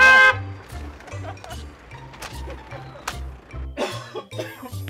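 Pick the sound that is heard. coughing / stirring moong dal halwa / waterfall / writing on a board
coughing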